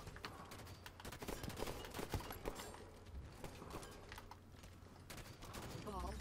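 Gunfire in Halo 5 crackles in rapid bursts and scattered single shots during an Oddball or Infection match, sharp and fairly loud, with faint voices in the mix.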